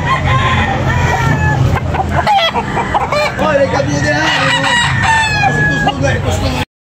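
Several roosters crowing loudly and close together at a chicken market, overlapping calls amid clucking and a busy background of chatter.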